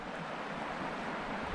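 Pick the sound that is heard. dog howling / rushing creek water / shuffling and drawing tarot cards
rushing creek water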